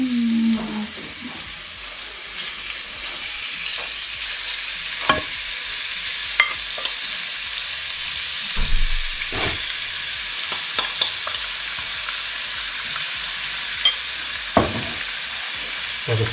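Food frying in olive oil in a very hot pan on the stove, with a steady sizzle throughout and intermittent scraping clicks from stirring.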